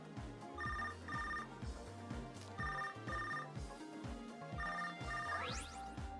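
A cell phone ringtone in the video game Tokyo Mirage Sessions rings in a repeating pattern of bright double trills, clear and steady over the game's background music.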